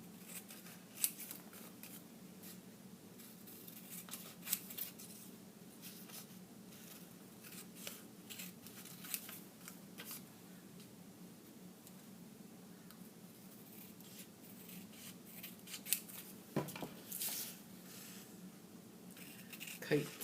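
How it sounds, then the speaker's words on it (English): Scissors snip repeatedly at paper, cutting out kite shapes in small, irregular cuts, quiet and close, with light rustling between. "let's cut those shapes out, keeping the scissors away from the black line"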